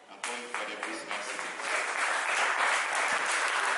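An audience claps and cheers for a speaker at a Congolese artists' promotion day, a steady mass of applause that swells after a brief start and continues throughout.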